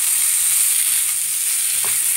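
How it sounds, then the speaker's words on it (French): Washed potato pieces cut into chunks hitting hot oil in a pot for one-pot vegan eggplant rice pilaf, giving a steady, even sizzle throughout with a faint soft clatter near the end. "Now I'll add the potatoes."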